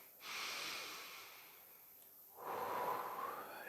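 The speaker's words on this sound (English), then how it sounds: "let's all take a breath first" A group's deep breaths: a long, airy inhale followed by a slow, rushing exhale, soft and close with no talk.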